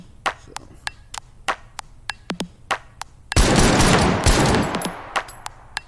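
Battle rifle gunfire in the VR shooting game H3VR: sharp single shots crack at an uneven pace, then a dense burst of rapid fire roars for about a second before isolated shots resume, loud and close.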